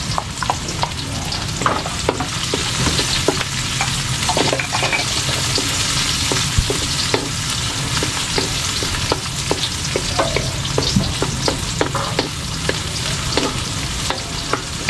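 Onions and garlic fry in a pan for a fish dish, a steady loud sizzle with frequent stirring clicks and scrapes running throughout.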